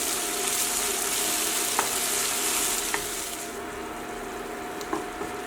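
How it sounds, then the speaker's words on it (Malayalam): Tomato with ginger-garlic paste sizzles loudly in an oiled pan for a rajma curry, a steady close frying hiss with a few light stirring clicks and no speech. "ഇഞ്ചി വെളുത്തുള്ളി പേസ്റ്റ് അത് ചേർത്ത് കൊടുക്കാം"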